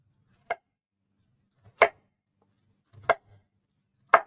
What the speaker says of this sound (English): So I'm just going to peel the skin off.